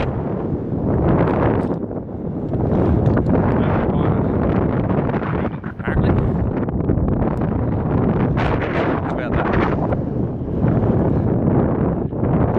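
Strong gusty wind on the summit of Scafell Pike buffets the microphone in a loud, continuous roar, with brief speech heard under the blustering.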